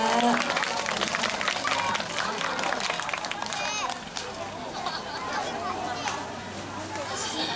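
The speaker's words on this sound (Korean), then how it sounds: "큰 박수 부탁드립니다." Applause from parents and families at a kindergarten concert as the principal comes up, a steady wash of clapping mixed with crowd chatter and children's voices, moderately loud and continuous.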